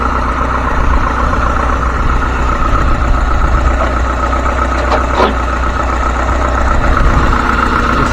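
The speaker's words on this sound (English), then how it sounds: "It's a good running engine, smooth." Steady, smooth idling of a 1989 Dodge Caravan SE's 2.5-liter turbo engine nearby, a constant low rumble with a faint whine on top and no talking.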